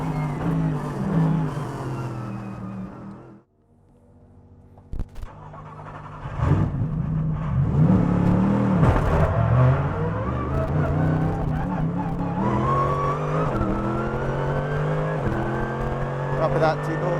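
A Mercedes-AMG GT3 race car laps the Nordschleife, its engine roaring up and down through gears from onboard, with a brief lift around a corner before hard acceleration resumes; a voice speaks over it.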